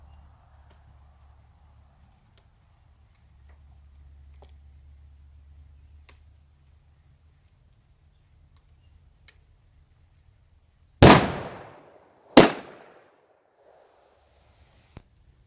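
Two loud, sharp rifle test shots from a 9.3x72R chamber reamed out from 9.3x70R, spaced about a second apart after a long quiet stretch with faint ticks and a low hum.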